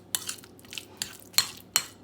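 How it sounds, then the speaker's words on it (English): Grilled chicken, avocado and broad bean salad dressed with lemon is tossed in a bowl, with about six sharp clinks of utensils against the bowl between soft wet stirring sounds, close and fairly quiet. "Then going to mix all together once again."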